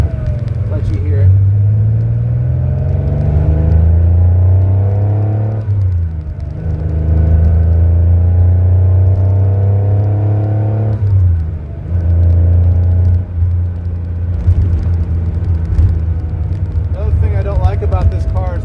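A loud Porsche 911 engine pulls hard through the gears, its deep note rising in pitch, dropping sharply at each shift, then climbing again, heard up close from inside the car.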